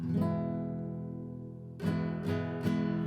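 Nylon-string chord on an Epiphone EC-24 classical guitar with brand-new strings going out of tune rings long and slightly sour, followed by three quick strums, up close with no talking.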